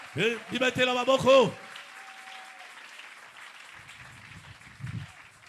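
A church congregation at an Easter seminar cheers and applauds after a loud preaching voice, with a sustained wash of clapping and acclaim fading into a softer background murmur.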